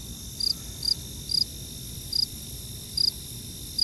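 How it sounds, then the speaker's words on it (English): Crickets chirp in short, bright bursts roughly every half second over a low, steady background rumble, close and clear. "Crickets."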